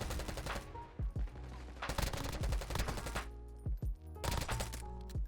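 Bursts of automatic gunfire in Black Ops 6, loud rapid volleys in several clusters separated by brief pauses, with sharp individual shot cracks and no talking.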